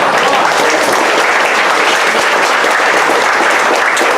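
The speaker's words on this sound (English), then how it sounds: "Please give them a round of applause." A crowd at a Republican U.S. Senate candidate's meet-and-greet in Virginia bursts into loud, dense, sustained applause that holds steady throughout without a pause.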